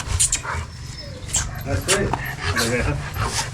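A dog whimpers and yips in short, high whines, mixed with nearby people talking over the top.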